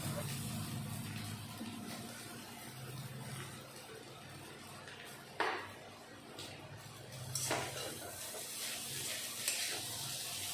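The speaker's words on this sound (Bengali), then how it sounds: "চাউমিন দেওয়ার পরে গ্যাসের ফ্লেম বাড়িয়ে দিয়ে বারে বারে নাড়াচাড়া দিতে হবে।" Boiled chowmein tossed and stirred in a hot pan over a raised gas flame, continuous sizzling with intermittent spatula scrapes and clinks against the pan, close and moderately loud, no voices.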